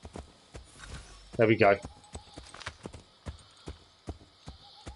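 Horse hooves clip-clop in Assassin's Creed III, a steady walking rhythm of distinct hoof strikes under a brief spoken phrase and faint game ambience.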